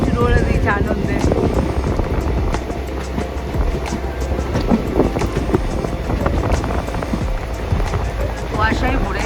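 A moving train rumbles along, heard from an open door in a misty monsoon landscape near New Mal Junction, a steady loud running roar with wind, while several people talk and call out excitedly over it.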